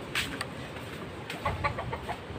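Chickens cluck in short, scattered bursts over a steady outdoor background noise in Donsol after Typhoon Rolly, a few sounding closer than others.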